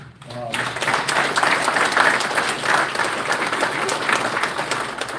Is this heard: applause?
yes